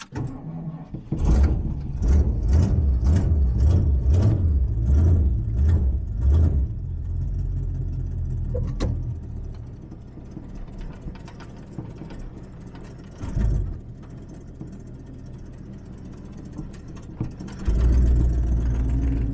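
An old Ford Ranchero's engine runs close by as it warms up, starting with a few heavy rhythmic pulses, then settling into a steady, rough idle with occasional small surges.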